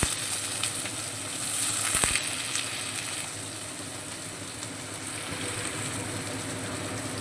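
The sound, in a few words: diced potatoes frying in oil with tempering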